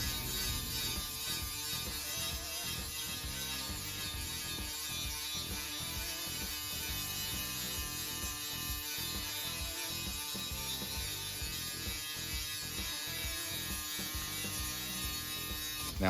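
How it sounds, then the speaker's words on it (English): An angle grinder roughs down the surface of a Yamaha oil pan, giving a continuous, even mechanical whine with rapid grinding texture that holds steady at moderate distance throughout. "he starts off here with an angle grinder, and it kind of roughs it down a little bit"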